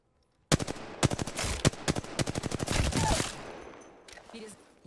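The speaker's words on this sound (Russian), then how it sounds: "В меня стреляют." Automatic gunfire in the video game Apex Legends: long rapid bursts of close shots that start abruptly, broken by short pauses, then fade into a ringing tail.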